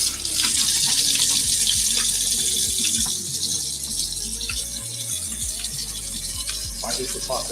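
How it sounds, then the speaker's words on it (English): A kitchen faucet runs steadily while hands are washed after crumbling a mac and cheese topping, a continuous close hiss with faint rubbing and some background speech. "I'm gonna have to wash those hands now."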